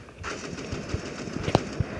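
MP40 submachine gun fire in the video game Sniper 2, a few scattered sharp shots over a background of game ambience, moderately loud and irregularly spaced.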